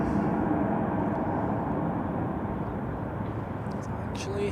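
A Delta airliner takes off from runway 34 at Zurich Airport during a storm, a steady broadband jet roar that holds loud and even throughout, with wind noise mixed in.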